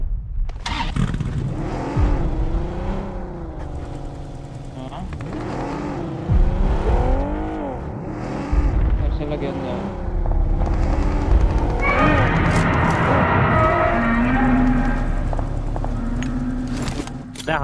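A car driven in PUBG Mobile, its engine droning and revving steadily throughout with pitch swells as it speeds, and voices talking over it in places.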